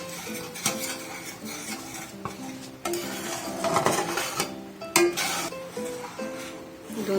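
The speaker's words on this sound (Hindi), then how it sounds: "गाढ़ा होके तब तक इसको चलाते रहेंगे।" Spoon stirring milk in a pan as it thickens for sugar-free, ghee-free mango barfi, with steady scraping and soft metallic clinks against the pan over a faint simmering hiss, no talk.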